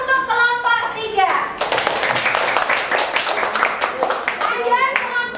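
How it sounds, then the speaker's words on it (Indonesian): Applause from a classroom of students for a presenting group, a burst of dense clapping that swells after a voice and fades back into speech at the end. "Kita beri aplaus untuk kelompok 3."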